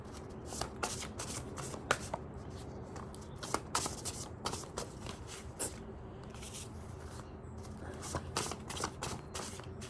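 Tarot cards shuffled by hand: repeated close riffles and soft slaps in a steady rhythm over a low room hum.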